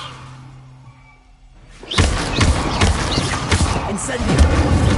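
A Levioso levitation spell is cast in Hogwarts Legacy, a sudden burst of dense magical whooshing and rumbling that starts after a quiet stretch and continues loud to the end.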